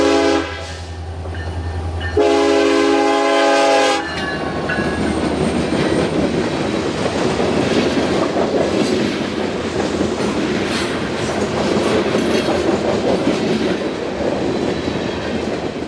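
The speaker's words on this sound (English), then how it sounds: "catch this train once more as it races along the countryside" A Canadian National freight train horn blares in long loud blasts, then the train roars past close by through countryside with a rumbling, clattering rush of wheels that continues steadily.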